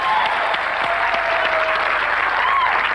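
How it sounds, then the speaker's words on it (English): A studio audience gives a dense, steady round of applause for a guest named Sue, loud and sustained throughout. "Big round of applause for Sue."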